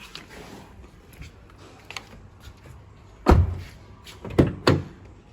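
The rear door of a Honda Brio Amaze 1.2 V VTEC car is opened, giving a loud latch clunk followed by two more sharp door thumps, close up over quiet background rustle.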